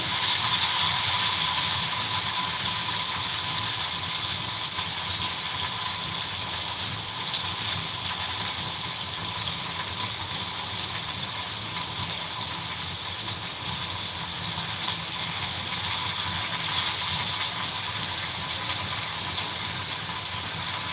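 Dried red chilli and curry leaves frying in hot oil, a steady loud sizzling hiss that carries evenly throughout without pause, close up and free of speech.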